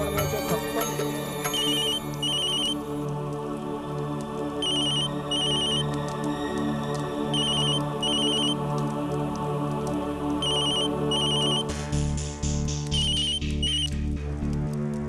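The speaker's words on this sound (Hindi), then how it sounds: "ये बार बार फोन करे है।" A phone ringtone chimes over and over in a steady repeating pattern, playing alongside continuous music throughout.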